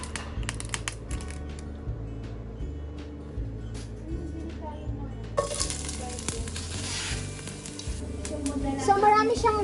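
Liver sautéing with plenty of ginger for Kapampangan igado, a close continuous sizzle with stirring, growing busier and louder toward the end, under a low background hum.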